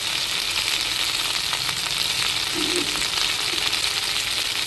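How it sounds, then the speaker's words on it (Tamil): Onions sautéing in a pan on the stove, a loud, dense, unbroken sizzle close up with faint scraping stirs underneath. "வெங்காயம் எடுத்துட்டு கொஞ்சம் வதக்கிட்டு"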